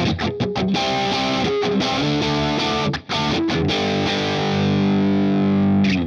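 Distorted electric guitar playing a song's chorus, with loud, close, choppy palm-muted strums that open into sustained ringing chords, a brief break midway, then steady strumming.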